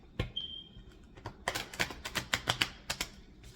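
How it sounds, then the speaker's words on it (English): A deck of cards being shuffled, a rapid series of crisp riffling clicks close by, sparse at first and then denser, with no talking. "let me shuffle these one more time for you so you can see me do it"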